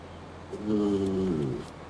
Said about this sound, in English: my dog just growled, not growled, but made a groaning sound at me